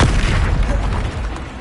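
A Confringo spell detonates in Hogwarts Legacy with a single loud, close boom that decays into a rumbling tail over about a second and a half, heard alone.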